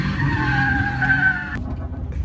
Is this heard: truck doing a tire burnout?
yes